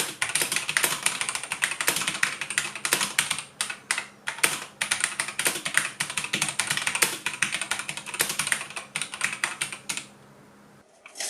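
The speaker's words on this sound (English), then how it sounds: "As you'll hear in the next few seconds, the LC red switches were audible but I didn't find them overly noisy." Steady, fast typing on a Cooler Master CK352 mechanical gaming keyboard with red linear switches, a dense stream of close, moderately loud clacks that continues for about ten seconds and then stops.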